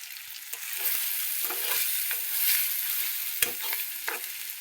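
Red chili powder and spices fry in a pan for a mutton-style masala, a steady sizzle broken by the scrape and clack of stirring.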